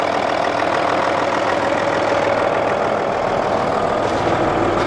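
A clean diesel engine idles at a junkyard, a steady, loud, even rumble with a faint knocking texture running throughout with no talk.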